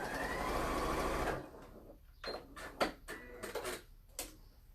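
Sewing machine running steadily through a flat fell seam for about a second and a half, a dense mechanical whir that stops abruptly, followed by scattered light clicks and handling taps of fabric.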